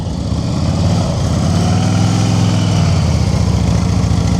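Motorcycle engine idling as the bike is moved during slow-speed riding practice, a loud, close, steady low rumble with a faint rise in revs midway, continuous and without talk.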